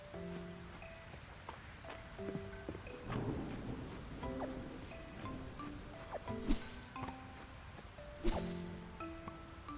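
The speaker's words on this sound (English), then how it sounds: "You love the sound of thunder?" Thunderstorm in the video game Fields of Mistria: steady rain hisses throughout while low thunder rumbles and sharper cracks roll in midway, with soft musical tones playing over it.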